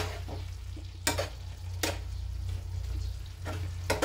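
Sautéed pechay being stirred in a pan without added water, with a steady low sizzle and a few sharp scrapes of the utensil against the pan, close and alone.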